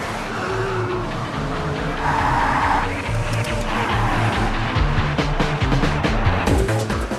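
Racing cars in the video game TOCA Race Driver 3 roar along with a loud, continuous engine drone, tire squeals and skidding bursts, plus rising and falling pitch as gears shift throughout.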